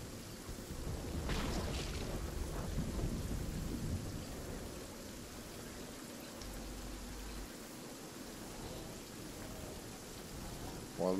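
A storm with rumbling thunder in Fortnite, a steady wash of rain-like noise with deep rolling rumbles, mostly early on, continuing under occasional faint talk.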